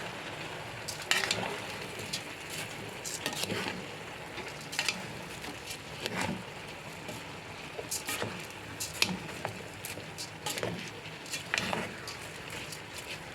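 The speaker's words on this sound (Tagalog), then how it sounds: "Igigisa po natin siya sa patis." Glutinous rice sautéing in fish sauce for arroz caldo, a steady moderate sizzle with scattered scraping stirs and spoon clicks throughout.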